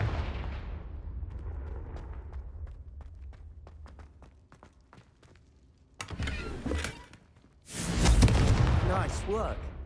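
Confringo fire spell cast in Hogwarts Legacy: a whooshing burst followed by loud fiery blasts and crackling roar late in the scene, after a stretch of fading rumble and sparse clicks, with voices talking around it.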